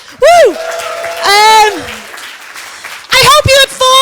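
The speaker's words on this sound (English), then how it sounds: "And the last big round of applause for all your comedians." An audience at a comedy show at the Zero Waste Festival applauds for the comedians, the clapping mixed with loud, sharp whoops and cheers that come in bursts close by.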